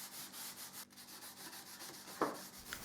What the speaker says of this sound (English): I will apply some wax on the sides of the jigsaw table